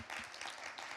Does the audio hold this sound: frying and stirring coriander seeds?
no